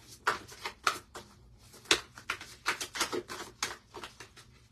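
Tarot cards being shuffled: quick papery riffles and slaps that repeat in a steady, uneven rhythm, close by.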